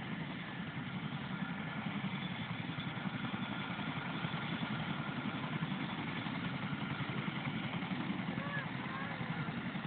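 A Chinook twin-rotor helicopter lands, with its engines and rotors giving a steady heavy throbbing roar that holds constant throughout, while voices talk over it.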